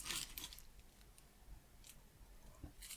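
Metal snips or scissors cut through the casing of a drone battery pack where aluminium plates are welded together in parallel, giving a few close, crisp snipping bursts over a quiet background.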